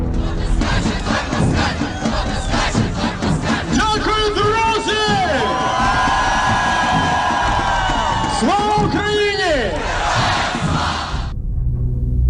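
A large crowd chants and cheers together, with sustained rising and falling group cries over dense babble at a loud, steady level, as at a political rally in Ukraine.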